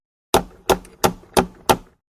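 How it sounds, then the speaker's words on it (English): Five evenly spaced, firm knocks on a prison cell door, close and crisp, with short silences between them and no talk. "She knocks on the door of Toad's cell."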